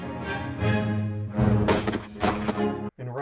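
A short excerpt of a song from The Sound of Music, with dense sung or yodelled melodic phrases over accompaniment, moderately loud, ending in a brief gap.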